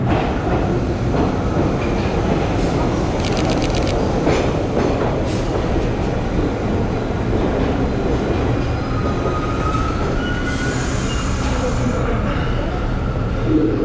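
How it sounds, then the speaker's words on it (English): A subway train sits in or moves through a station, producing a loud, steady rumble and clatter that fills the whole stretch, with faint background voices mixed in. "Everybody wants to get on this train."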